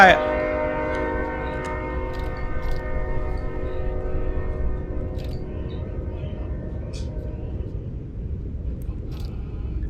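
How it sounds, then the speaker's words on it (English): A train rolling past in a fantasy role-playing game, opening with a strident horn-like tone that fades over a sustained low rumble of cars moving by. "Had a bit of a train go by"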